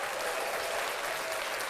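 Applause from a live show audience, a steady dense wash of clapping running throughout the short burst with no voices on top.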